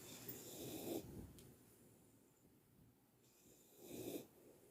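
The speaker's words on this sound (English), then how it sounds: "Hear him snoring." Bowser the dog snores softly while asleep, two slow, faint, breathy snorts a few seconds apart, quiet and close in a still room.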